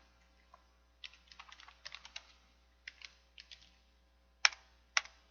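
Quiet, close keystrokes on a computer keyboard: scattered clicks, then short bursts of rapid typing, ending with two sharper, louder key presses, with no voices over a near-silent background.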